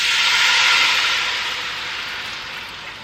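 White wine is poured into a hot pan of garlic and red pepper flakes for shrimp scampi, setting off a loud, close, continuous hiss that slowly eases off over a few seconds.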